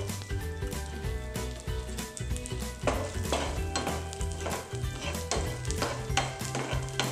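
Thinly sliced garlic cloves frying in leftover chicken fat, a close sizzle with repeated spatula stirring and scraping against the pan, moderately quiet and steady, no talk.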